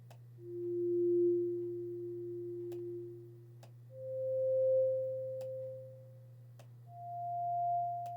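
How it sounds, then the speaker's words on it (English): Chrome Music Lab Harmonics tool sounding pure synthesized tones, three swelling sine notes each rising higher over a steady low hum, with faint periodic clicks, soft and alone. "So this one's like the sound of two notes and how they interact."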